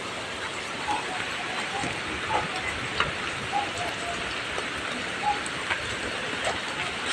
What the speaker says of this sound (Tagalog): Malakas pa po ang ulan.